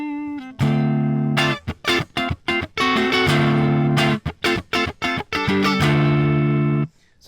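An electric guitar, a Telecaster-style kit build on its neck pickup, plays a series of warm, rounded chords and riffs, with choppy stops between strums and a slight ringing sustain.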